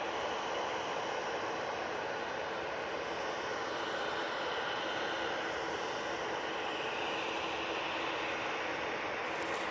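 A Boeing 787-9 Dreamliner jet at Manchester Airport gives a steady, broad engine roar that holds evenly for the whole stretch without pause, and no voices are heard.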